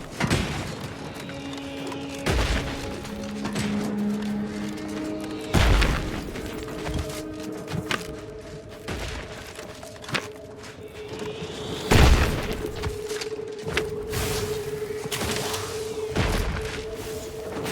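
Gunfire and explosions in the video game The Outer Worlds 2: heavy booms and thuds land every few seconds over a tonal game soundtrack, with sharper bursts between.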